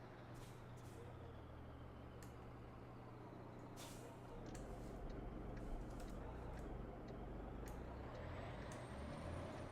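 Modded traffic ambience in American Truck Simulator while driving a Mack R700 truck through Wyoming, a steady engine and road drone with several short hissing air-brake bursts and passing vehicles, no talking.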